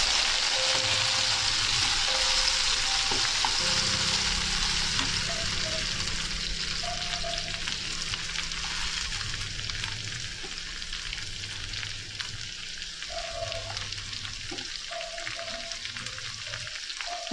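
Tomatoes fry in a bubbling masala, a steady close hiss and crackle running throughout while a spoon stirs occasionally, with faint background hum and no talking.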